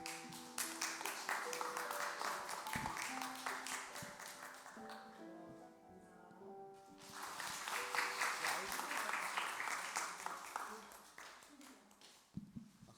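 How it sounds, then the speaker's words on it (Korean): A church congregation at a Sunday Pentecost service applauds for children receiving prizes, with two bursts of clapping separated by a brief lull where sustained organ or keyboard notes sound, then tapering off. "박수 부탁드립니다."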